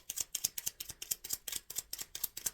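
Tarot cards being shuffled in the hands, a quick run of crisp, papery snaps in a steady rhythm, close and fairly quiet with no voices.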